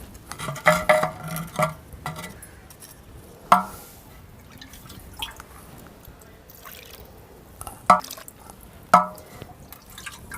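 Clean water poured and sloshed over something being rinsed in a kitchen, with scattered splashes, drips and light clinks of a vessel in short bursts separated by quieter gaps.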